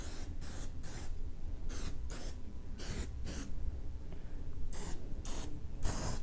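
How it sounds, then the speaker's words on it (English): Pam cooking spray hisses in repeated short bursts over the skin of a whole turkey being coated for smoking, about eight close, sharp sprays spaced with brief pauses. "So we're just going to coat it down with some Pam."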